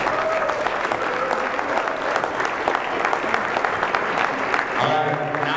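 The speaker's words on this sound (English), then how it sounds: "A big round of applause for our seniors and parents." Applause for seniors and parents at a Loyola Academy Ramblers versus Steinmetz game, a loud, sustained clapping from a crowd that continues evenly throughout.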